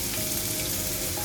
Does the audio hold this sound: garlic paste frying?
yes